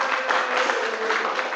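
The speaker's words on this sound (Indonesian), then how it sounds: "Tepuk tangan untuk teman kalian" Students in a classroom give a short burst of steady group clapping for classmates who presented their posters, close and continuous with no voices standing out.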